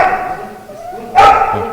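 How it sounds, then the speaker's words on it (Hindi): An ITBP K9 squad police dog lets out a single sharp, loud bark close by during a demonstration, over a steady background hum. "ये भौंक भी रहा है"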